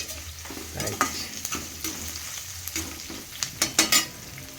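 Vegetables sizzle and fry in a pan while puffed rice upma is being cooked, with a steady crackle broken by a few scraping stirs that grow louder near the end.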